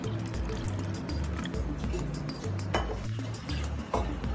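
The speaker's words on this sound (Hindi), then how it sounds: "दूध में हम पानी मिक्स कर देंगे" Water poured into milk in a kitchen while making dough for Amritsari kulcha, a close, trickling splash with small clinks of a vessel, continuous for a few seconds.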